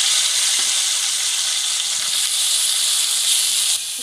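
Bele fish sizzling in hot oil in a pan, a steady bright frying hiss that runs the whole time with faint crackles and no talking, dropping slightly at the very end.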